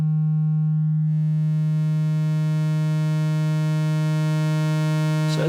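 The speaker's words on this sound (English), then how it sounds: "Let's turn up the distortion." A steady sine wave tone runs through a Eurorack distortion module with the distortion turned up, holding loud and constant with a dense stack of buzzing harmonics that thickens after the first second and ends in a brief crackle.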